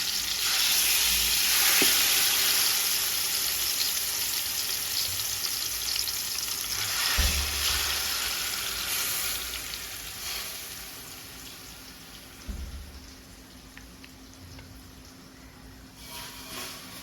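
Tandoori chicken sizzles loudly in a hot pan as pieces are laid in, a continuous close frying hiss with a few thumps and stirs, no talk.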